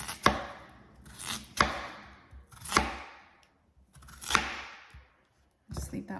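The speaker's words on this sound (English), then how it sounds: "now we're just gonna cut our potatoes into little square chunks" Potatoes are cut into square chunks with a knife on a board, giving about five sharp chopping strikes at uneven intervals, each followed by a brief scrape and rustle.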